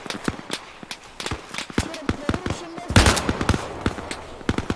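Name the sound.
gunfire in Arma Reforger video game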